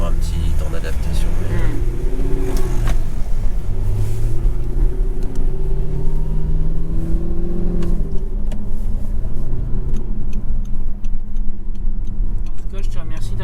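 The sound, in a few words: Audi R8 car driving through Paris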